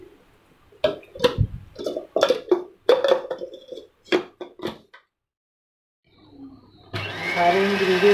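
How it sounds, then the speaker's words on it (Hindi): After a series of clattering knocks and bumps, a kitchen blender whirs loudly into action blending ingredients with a little water for chicken bites, and keeps running steadily. "सारे इंग्रेडिएंट्स को हमने ब्लेंड कर लिया"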